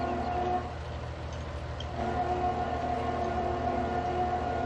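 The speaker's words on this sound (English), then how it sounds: "This is our potato washer." A potato washer machine on a Farming Simulator 19 farm drones loudly and continuously, a steady mechanical rumble with a faint tonal whine running throughout, uninterrupted by voices.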